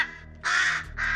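Crows caw in the film 28 Days Later, two harsh, raspy calls in quick succession, fairly close and clear over a low rumbling background.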